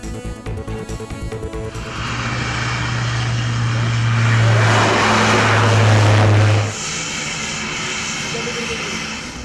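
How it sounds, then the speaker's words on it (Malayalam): A small propeller aircraft's engine drones and swells louder as it passes close by, then drops away, leaving a lighter rumble. "പരീക്ഷണ പറക്കൽ നടത്തിയത് വ്യോമസേനയുടെ ചെറുവിമാനം."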